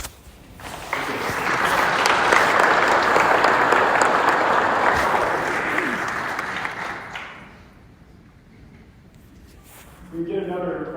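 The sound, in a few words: audience applause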